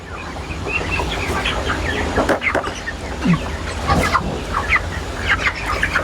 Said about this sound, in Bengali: এই পাঁচটা মুরগির বাচ্চা ছেড়ে দেন মুরগি ছেড়ে দেন